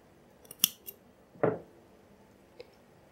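Scissors snip through crochet yarn with a few close, sharp clicks and one fuller cut in the middle, then a faint final tick in a quiet room.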